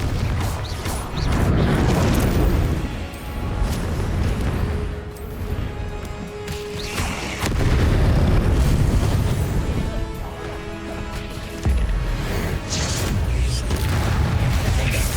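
Confringo spell blasts in Hogwarts Legacy on Switch, a series of heavy booming explosions with crashing debris and magical whooshes, recurring every few seconds among other spell effects.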